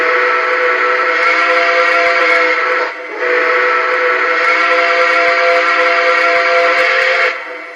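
An NKP Berkshire model train engine sounds a loud, steady steam-style whistle, held for about three seconds, broken by a brief dip, then held again for roughly four more seconds before trailing off.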